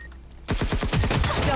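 Rapid automatic gunfire in a mobile tactical shooter video game, a loud close burst of evenly spaced shots that starts abruptly and keeps firing without pause.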